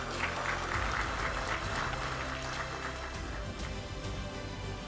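A seated audience of provincial land office officials and guests claps for the heads of the Banten land offices, a steady, moderately distant wash of hand claps with a low hum of a hall beneath.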